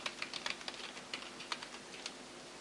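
Fingers typing a Facebook password on a computer keyboard, a quick, light run of key clicks close by, fairly quiet and without speech.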